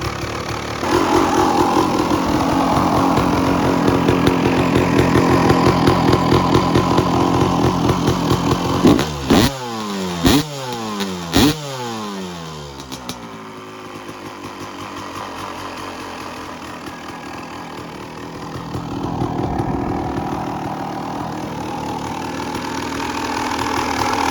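A 1992 Honda CR250 two-stroke dirt bike engine idles loudly and steadily, with a few quick throttle blips that rise and fall in pitch before it settles back to a rough idle.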